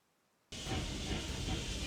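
A steam train in the video game Octopath Traveler II bursts in after a half-second of near silence, a loud, steady broadband hiss and rumble that holds for the rest of the clip.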